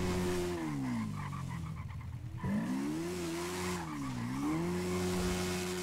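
Cars pass through a busy intersection, engines rising and falling in pitch as vehicles sweep by one after another, loud and close with a brief lull midway.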